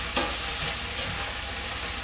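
Vegetables sautéing in a pan seasoned with sazón give a steady, close sizzle with soft stirring scrapes and no talking.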